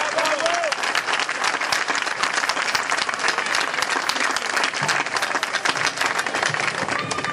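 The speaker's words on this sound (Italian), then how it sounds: "un altro applauso ancora a Mauro" Continuous, lively applause from a crowd at an outdoor political rally in Strudà, Vernole, with a brief voice at the start, clapping steady and close for the whole stretch.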